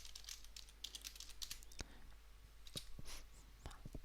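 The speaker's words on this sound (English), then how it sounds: "I'll just type in the password" A password typed on a computer keyboard, heard as a faint, quick run of close key clicks with irregular pauses in a quiet room.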